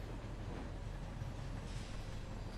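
Steady rumble of a moving train heard from inside a carriage, a continuous low roar with faint rail clatter running through the whole stretch, close and even in level, with no talking.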